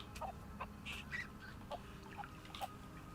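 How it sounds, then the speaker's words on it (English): Chickens in a zoo-building video game, several short clucks and squawks scattered over a few seconds, fairly faint over a low steady background hum. "It's the chickens."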